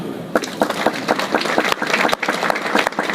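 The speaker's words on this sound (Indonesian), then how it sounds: "Tepuk tangan." Audience applause at a religious gathering in Pasuruan, loud and close, with distinct, somewhat uneven claps that come in bursts and pulses rather than a smooth wash, over a few seconds.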